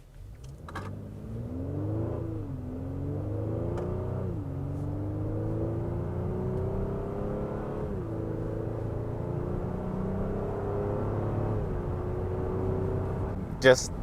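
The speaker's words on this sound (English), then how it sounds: "It's an excuse to give you some J Series sounds, because this is one of my favorite sounding engines, the Pilot." A Honda Pilot's J Series V6 engine revs and accelerates through several gear changes, its tone climbing smoothly then dropping at each shift, loud and close with a brief click near the end.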